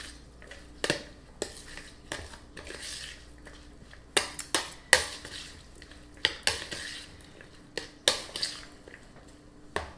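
Kosher salt being stirred into fresh pico de gallo in a bowl, with a utensil scraping and clinking against the dish in irregular bursts of sharp taps and scrapes, close and clear with no talking.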